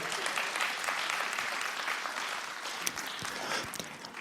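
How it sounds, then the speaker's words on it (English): An audience at a talk gives steady clapping for a participant, moderately loud at first and slowly fading, with a few sharper individual claps standing out toward the end. "Round of applause for Cara, please."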